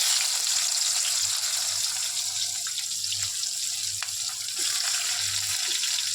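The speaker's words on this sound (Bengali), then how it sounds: "পেঁয়াজগুলো ভালো করে ভেজে নেব" Onions frying in a pan of oil while cooking Bengali chicken kosha, a steady close hiss and sizzle with faint scattered crackles and occasional soft scrapes.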